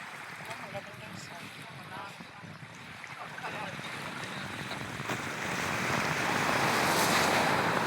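Sea waves wash onto a beach in Real, Quezon, a steady broad surf that grows louder toward the end, with wind buffeting the microphone.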